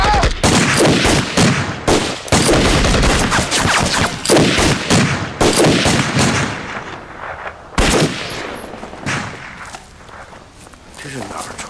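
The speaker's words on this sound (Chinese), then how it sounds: "这是哪儿传来的枪声啊？" Dense rattling gunfire from a Red Army battle scene at the Xiangjiang River crackles continuously in overlapping volleys, fading somewhat toward the end, with voices and hurried movement mixed in.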